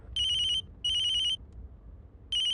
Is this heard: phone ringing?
yes